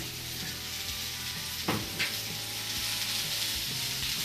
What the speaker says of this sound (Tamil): எல்லாத்தையும் போட்டு நல்லா வதக்க ஆரம்பிச்சுங்க.